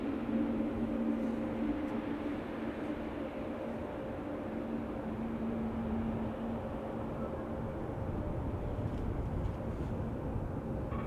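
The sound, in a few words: Boeing 747 aircraft arriving at Amsterdam Schiphol Airport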